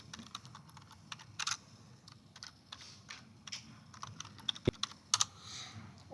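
Computer keyboard keys tapped in short irregular bursts while entering a table name in Microsoft Power BI, close and fairly quiet, with no talking.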